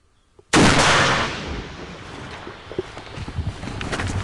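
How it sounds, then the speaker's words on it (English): One heavy artillery blast on a front line, a sudden loud boom that rolls off into a long decaying rumble and wind noise. "they intensify artillery shootings to stop us"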